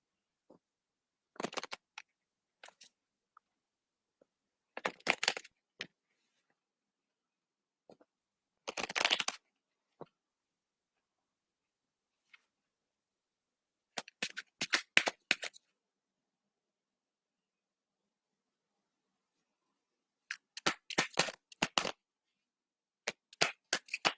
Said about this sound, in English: Yep, I'm shuffling your cards already.